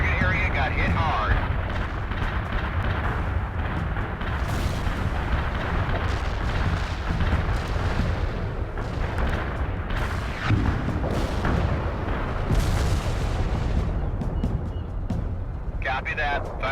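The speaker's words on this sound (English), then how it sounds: "Delivering a rain of shells at target coordinates." Artillery shells pound target coordinates in the World in Conflict video game, a dense continuous roar of overlapping blasts and rumbling booms that stays loud throughout, with voices talking over the barrage.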